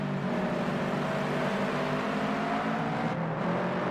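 Three Toyota 86 race cars in Project Cars 2 at Sportsland SUGO, engines held at the rev limiter: a dense, steady, loud mechanical drone that barely varies and dips only briefly near the end.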